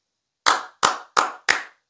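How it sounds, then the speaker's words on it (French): Four sharp, loud hand claps in steady rhythm, close up and alone with no talk, each ringing briefly before the next. "je vais vous applaudir encore une dernière fois"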